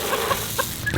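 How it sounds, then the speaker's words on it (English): Chickens cluck in a few short, soft bursts at a farm feeding time, with a faint background hum and no talking. "Look at the chickens just come running up."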